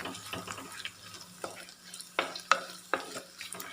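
Onions sautéing in a pan for Kerala-style buttermilk curry made without coconut, with soft sizzling and a few sharp scrapes and clinks of a stirring spoon against the pan.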